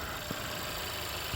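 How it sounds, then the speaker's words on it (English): Honda Civic Type R, a manual JDM sports car fitted with an aftermarket exhaust, idles with a faint, steady low engine hum and slight vibration, heard alone with no talking. "So, that's Civic Type R with exhaust."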